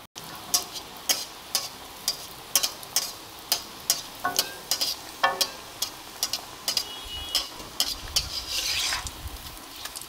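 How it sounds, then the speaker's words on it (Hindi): Burger patty frying in hot oil in a kadai over low heat, giving a series of short crackling, sizzling pops near and clear, with a steadier sizzle building toward the end. "अब हम स्टार्ट करते हैं इनको फ्राई करना।"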